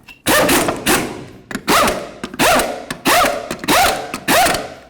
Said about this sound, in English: We're going to start on all of our lug nuts. We'll bottom them out and then we'll torque them to 150 foot-pounds.